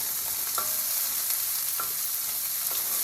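Small precooked shrimp are stirred around a hot pan, a steady hissing fry with a few distinct utensil scrapes and knocks close by.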